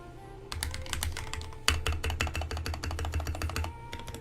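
Rapid mechanical keystrokes on an RK61 budget keyboard, a close, steady patter of sharp clacks with a deeper thock beneath, running continuously after a brief quiet start.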